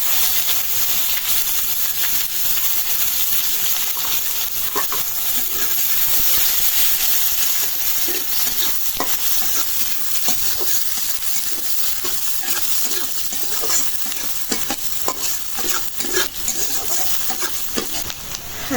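Bay leaf, cumin, dried chilli and onion fry in hot oil in a pan, a loud continuous sizzle and steamy hiss with scattered stirring scrapes and crackles.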